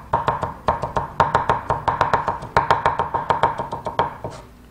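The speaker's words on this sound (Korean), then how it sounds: "채 썬 마늘은 다시 한번 다져줍니다." A knife rapidly minces julienned garlic on a cutting board, a steady run of close, crisp taps in quick bursts, alone with no voices.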